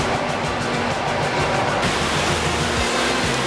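Rough sea waves crash and roar, driven by wind and rain, during coast guard sea training. The wash is loud and continuous, with a sharp shift in texture partway through.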